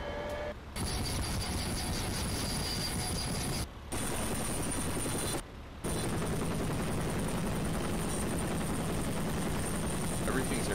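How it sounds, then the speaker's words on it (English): Helicopter main and tail rotor sounds from a video game, a steady dense churning drone that runs nearly throughout, broken by a few brief cuts to near silence. "Improved carrier and steering rotor sounds."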